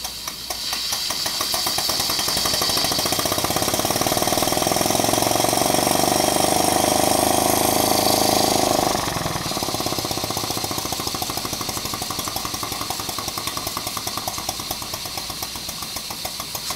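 A Tiny Power Ajax model steam engine runs on steam with a steady, rapid mechanical chuffing and clatter, loud and close, easing into a slightly lighter rhythm partway through.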